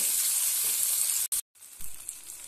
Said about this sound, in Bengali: এরপর এখানে আমি দিয়ে দেবো একটু টমেটো। এই ভালো করে আমি ভেজে নেব, কষিয়ে নেব।